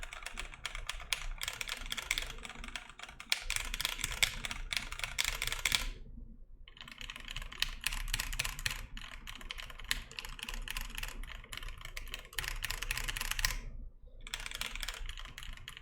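Close, steady typing on an OTD 360 Corsa keyboard with PBT keycaps, dense runs of soft key clacks broken by two short pauses.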